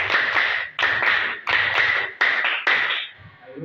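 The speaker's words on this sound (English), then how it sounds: "Clap for yourself." Schoolchildren in a primary school classroom clap for themselves in a patterned rhythm, about six loud bursts of many hands together with short gaps, close and clear with no talking.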